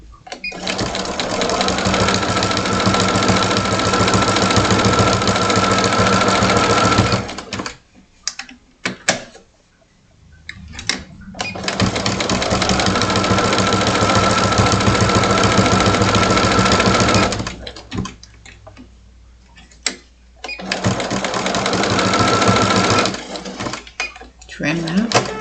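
Sewing machine stitching fabric, loud and close, with three long bursts of rapid, steady needle clatter separated by pauses of quieter handling noise.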